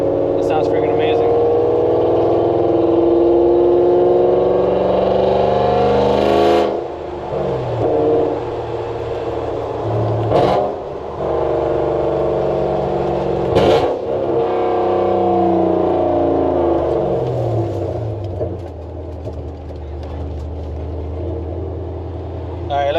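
Straight-piped BMW E39 540 V8 rumbling and revving during a night cruise, with a deep continuous exhaust drone that rises and falls through downshifts and throttle blips while someone talks over it.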